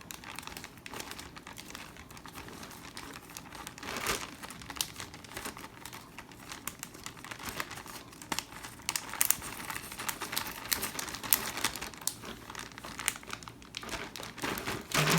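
A zip-lock plastic bag holding ice for homemade ice cream is handled and sealed, giving a long run of close crinkling, rustling and small clicks in an uneven rhythm, with no talking.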